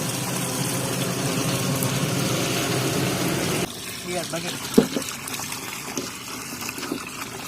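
Water from a village tap gushes into pots in a steady, loud rush for a few seconds, then cuts to a quieter, uneven flow with occasional knocks and splashes.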